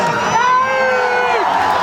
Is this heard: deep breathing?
no